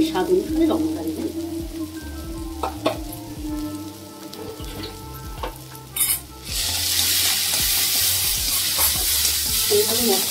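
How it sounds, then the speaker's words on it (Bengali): Spices for a fish curry with coriander and cumin powder sizzling in a pan while a spoon clinks and scrapes in scattered strokes, then a sudden loud burst of hissing frying noise fills the second half. "এইভাবে মশলাগুলোকে আমি 2 মিনিট ভালো করে কষিয়ে নেব।"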